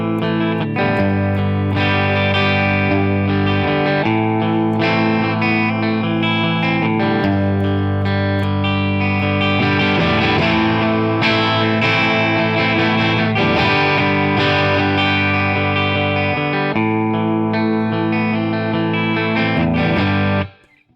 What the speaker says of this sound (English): do like a sort of a hybrid guitar picking